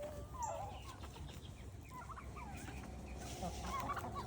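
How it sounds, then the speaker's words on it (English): Turkey gobbles and chicken clucks rise in scattered bursts as a turkey goes after chickens in a chicken tractor, moderately near over steady outdoor background noise. "We got a turkey fight going on or something here. Turkey's going after one of the chickens, not happy."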